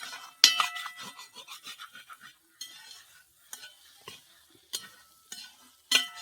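Food is stirred in a pot in bursts of scraping and clinking from a spoon against metal, with brief pauses between the strokes and a faint sizzle underneath; no voices.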